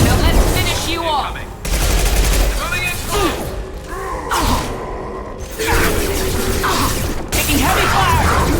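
Heavy gunfire in the game Mass Effect 2, loud bursts of rapid shots broken by brief lulls, with mechanical clatter and impacts and occasional voices shouting over the firefight.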